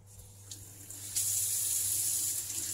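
Tap water runs steadily into a sink as fruit and vegetables are washed, a continuous close hiss that swells louder about a second in, with a low steady hum beneath.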